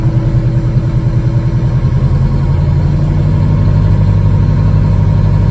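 The diesel engine of an MCI MC5a bus idles steadily and loudly nearby, a low rhythmic rumble that gradually smooths out.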